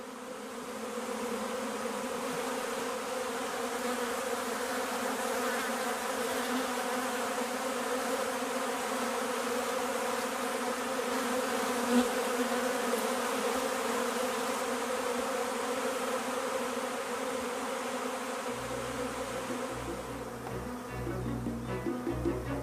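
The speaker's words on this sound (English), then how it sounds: "The swarm, with the queen in its midst, rises from the box and continues its journey to a new, unknown destination." A honeybee swarm with its queen lifts off from a hive box, a dense, continuous buzzing hum holding steady and close throughout, with a low rumble joining near the end.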